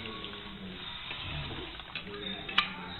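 Ginger and garlic sautéing in a pan for Filipino adobo sa puti, a steady soft sizzle with stirring scrapes and a sharp clink of a utensil near the end.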